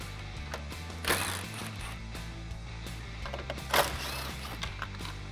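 Ratchet clicking in quick bursts while backing out 10mm bolts holding the factory grille on a 2018-2020 Ford F150, close and fairly quiet, with brief louder pauses between turns and no talking.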